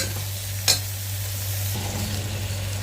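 Tomatoes cooking in oil give a constant close sizzle with a low steady hum, broken early by one sharp spoon knock against the pan and light stirring.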